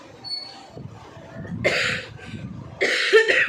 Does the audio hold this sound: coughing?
yes